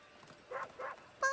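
A cartoon puppy yips and whimpers in a few short, high bursts, two close together and a sharper one at the end, with faint background sound from the show.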